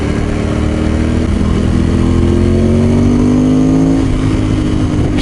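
A Ducati motorcycle being ridden, its engine revving up and down in loud, continuous rising and falling pitches that stay close and dominate, with no voices.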